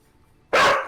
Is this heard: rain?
no